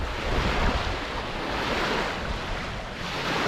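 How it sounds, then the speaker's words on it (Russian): Strong wind roars over crashing surf at the shore during a carp fishing trip, a steady broadband rush with buffeting gusts hitting the microphone, no voices. "Вітер. Вы можете почути навіть по звуку. Да ветру ганище просто сумасшедший."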